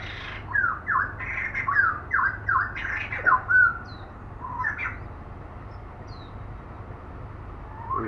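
Zebra dove (Geopelia striata) chicks about 13 to 15 days old give a run of short, squawky chirping calls close by, bunched in the first few seconds and then scattered and fainter over a low steady hum.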